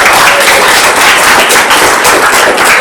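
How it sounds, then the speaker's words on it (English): Loud, dense applause from an audience at a One Fair Wage Michigan celebration, steady clapping filling the whole stretch without a break. "Everybody give him a round of applause."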